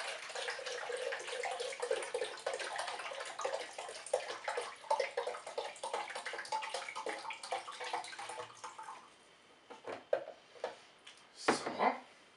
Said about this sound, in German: kann man auch sehr schön mit einer Wasserflasche auffüllen